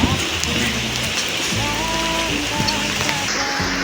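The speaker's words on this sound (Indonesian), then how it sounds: "Hujan." Steady rain falls at a hillside villa in Puncak, Cisarua, a dense constant hiss of drops on surfaces, close and loud, with some tonal background sounds layered in.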